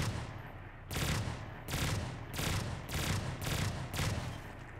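A powerful gun fires in a zombies video game, with about six loud bursts of rapid fire spaced roughly evenly, separated by brief gaps.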